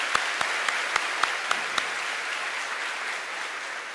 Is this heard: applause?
yes